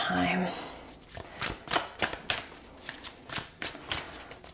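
Tarot cards being shuffled by hand, a soft riffling swish followed by a run of crisp flicks and taps at an uneven rhythm, close and fairly quiet, with a voice briefly present at the start.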